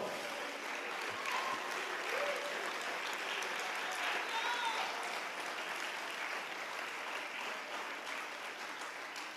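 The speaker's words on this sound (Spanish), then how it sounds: "Dale un aplauso al Señor Jesucristo." A church congregation applauds together in one continuous wash of clapping that holds steady from start to finish, with scattered voices mixed into it.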